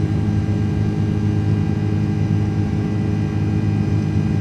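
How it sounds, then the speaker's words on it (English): Jet engines of an iniBuilds Airbus A330 in the Microsoft Flight Simulator 2024 video game drone as a steady, loud, even roar with a faint whine, with no talk throughout. "So the engines don't sound bad right now. They sound pretty decent, actually."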